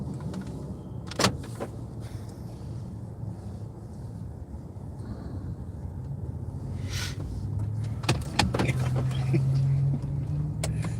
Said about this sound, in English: All right, 2 cars just pulled in.